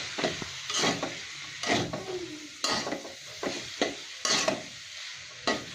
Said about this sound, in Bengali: এবার আমি ভালো করে নেড়ে ছেড়ে নেব সবজিটা।